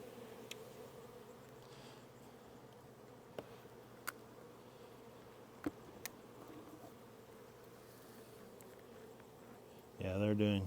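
Honey bees buzz around brood frames at an open hive during a June honey flow, a steady low drone with occasional faint clicks and taps, and a louder burst of handling noise at the end.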